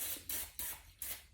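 Aerosol spray can misting onto wax paper in a home kitchen while making cookie dough protein bars, three short hissing bursts in close succession, each starting sharply and tapering off, with no talking.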